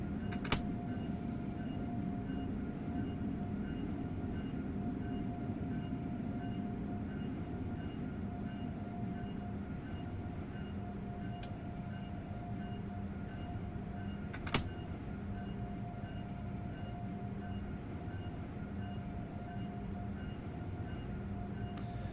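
A glitching train in the Train Sim World 4 game: a steady droning hum with a constant whine, broken by a few sharp isolated clicks, moderately quiet and uninterrupted.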